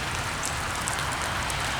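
Steady rain falls outdoors, a dense, even hiss of drops on surfaces that holds constant throughout with no voices.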